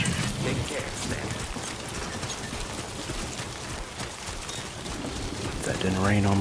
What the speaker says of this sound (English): Oh crap, it's raining.